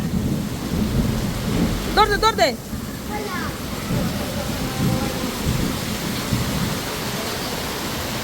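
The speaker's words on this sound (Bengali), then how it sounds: "প্রচন্ড পরিমাণে বৃষ্টি হচ্ছে সকাল সকালই" Heavy rain pours down steadily with a deep rumble of thunder underneath, while a person briefly shouts over the downpour.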